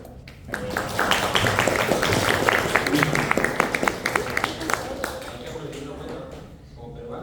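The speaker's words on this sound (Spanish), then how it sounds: "acompañen un aplauso porque ha sacado la máxima nota en el premio" A classroom of students applauds a classmate, sustained clapping swelling in quickly and continuing steadily for several seconds before fading out, with sharper individual claps standing out near the end.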